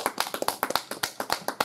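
A few people clap unevenly in a courtroom during a hearing, sharp close handclaps in an irregular rhythm, sparse and distinct rather than a full ovation.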